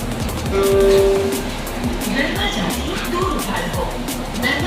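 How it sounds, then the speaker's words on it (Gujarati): A metro train pulls into a station: loud rumbling and rhythmic clatter of wheels over rails, with a short horn note near the start, heard up close as a person speaks. "ફાઇનલી મેટ્રો આવી ગઈ"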